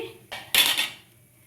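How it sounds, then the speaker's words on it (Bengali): A metal lid lifted off a cooking pot of semolina sweet pulao, giving two quick clanking knocks close by before fading out, with no voices. "দু মিনিট পরে ঢাকনাটা তুলে নিচ্ছি"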